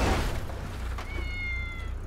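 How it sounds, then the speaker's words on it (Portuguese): A cat in the GTA V video game meows after being struck by a car, a short, thin cry heard over a steady engine drone. "Nossa, bati no gatinho."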